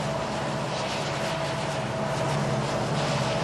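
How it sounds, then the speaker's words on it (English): High-horsepower diesel locomotives haul a mile-long coal train, a steady low rumble with a sustained engine drone and a faint tonal hum, heard close and without pause. "How about a mile-long coal train?"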